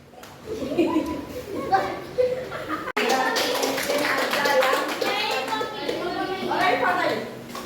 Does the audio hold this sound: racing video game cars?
no